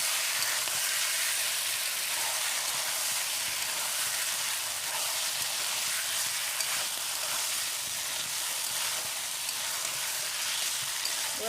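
Chicken sautéing with Kashmiri chilli powder and spices in a pan gives a steady, even sizzle and fry that runs unbroken, with faint stirring underneath and no one speaking.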